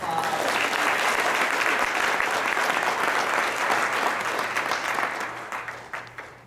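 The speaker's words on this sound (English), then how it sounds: "Give her another round of applause." A crowd claps in sustained, dense applause for a child at an event, loud at first and then tapering off into scattered claps, with voices faintly underneath.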